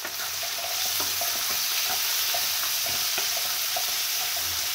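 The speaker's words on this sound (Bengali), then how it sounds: "মটরশুঁটি শিমটা ভেজে নিচ্ছি" Peas and flat beans fry in oil with ginger, onion, garlic paste, tomato, green chilli, bay leaf and cumin, giving a steady close sizzle broken by stirring scrapes and clinks.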